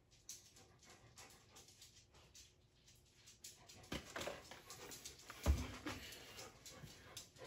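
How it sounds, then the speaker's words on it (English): A dog pants softly in quick, steady breaths, close by, with faint rustling and a small bump partway through. "sorry for the noise, my dogs are out."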